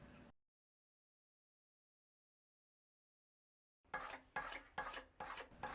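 Farrier's rasp and scraper shaping a yew longbow stave, heard as five or six rhythmic rasping strokes close by after a long silence, each a harsh scratchy rub with brief gaps between.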